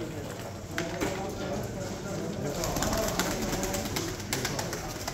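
Pigeons coo at a bird auction amid a busy background murmur, with soft, fairly faint cooing under a steady wash of noise and some sharp clicks.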